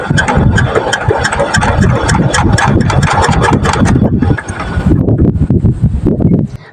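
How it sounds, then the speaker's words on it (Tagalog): A farm engine is cranked repeatedly without starting, giving loud, close, irregular chugging and mechanical clatter with a brief pause before the cranking resumes. "itiniloy ko yung pagpapaandar na kahit ang alam ko ay mahirap paandarin"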